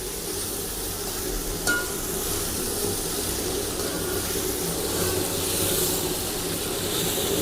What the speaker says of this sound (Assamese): এবাৰমান আমি ষ্টিৰ আপ কৰি দিম। কেৰাহীখন অলপমান সৰু হৈছে বাৰু